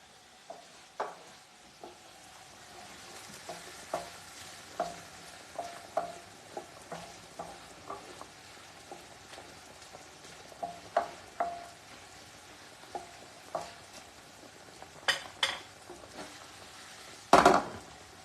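Sausage, broccoli rabe and orecchiette being stirred and sautéed together in a pan, with a steady soft sizzle and repeated scraping clinks of a utensil against the pan, a louder clatter near the end; no talking.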